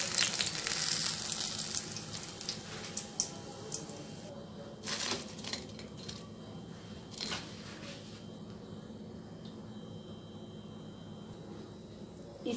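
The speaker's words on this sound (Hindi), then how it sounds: "इसी तरह हम सारे फ्राई कर लेंगे" Potato bhajiye deep fry in oil with a soft continuous bubbling sizzle, crackles and occasional scraping clicks in the fryer as the fritters are moved and lifted out.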